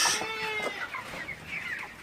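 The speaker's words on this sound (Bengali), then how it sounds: "আমি এখানে 55টায় মোরগ রাখছি, কোনো মুরগি রাখি নাই।" Broiler roosters kept together in a farm pen, about fifty-five birds raised for large size, give a few close, loud clucks and short throaty calls in quick succession, with no talking.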